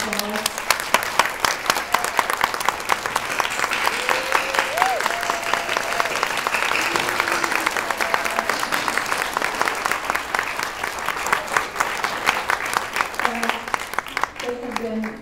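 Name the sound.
applause for the board at a celebration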